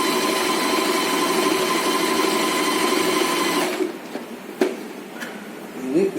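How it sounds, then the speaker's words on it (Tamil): Usha Janome Stitch Magic sewing machine stitching cloth, a steady close mechanical whir that runs continuously and then stops partway through, leaving a few soft handling clicks. "கிளாத்தை வச்சு அப்படியே நம்ம ஸ்டிச் பண்ணிடலாம்."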